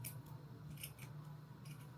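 Scissors snipping through paper to cut small squares, several quick close crisp cuts in an irregular rhythm, quiet and alone.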